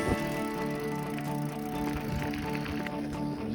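A mountain bike rolls along the Barrington Trail through Barrington Tops forest, with steady tyre rumble, squishy ground contact and rattling, loud and close throughout.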